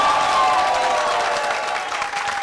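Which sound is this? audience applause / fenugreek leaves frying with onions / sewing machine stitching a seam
audience applause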